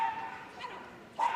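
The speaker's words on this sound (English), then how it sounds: "to the sounds of barking enjoyment" Short dog barks and yips sound at a moderate distance under steady background noise at the Crufts 2023 dog show, with one louder burst near the end.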